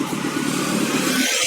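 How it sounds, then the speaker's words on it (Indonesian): A stolen motorcycle is started and revved, a steady engine roar filling the short stretch before it briefly drops away at the end. "motor saya itu sedang dicuri oleh teman saya, dan teman saya akan menyalakannya"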